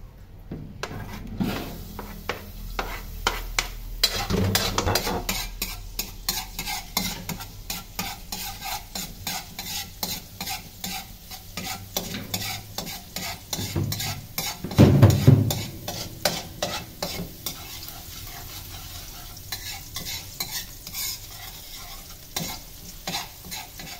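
Garlic frying in a pan at breakfast, a steady close sizzle with repeated scraping and stirring strokes, a louder burst of clatter midway, no talking.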